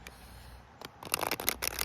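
A circular tarot deck being shuffled in smaller stacks, with soft riffling card flicks and taps that grow busier and louder toward the end, close and alone.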